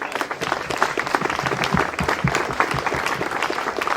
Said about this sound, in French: s'il vous plaît, je voudrais qu'on les applaudisse aussi.